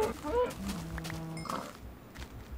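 A cow in Minecraft gives one low, drawn-out moo in the middle, amid soft footstep-like thuds and a brief voiced sound at the start.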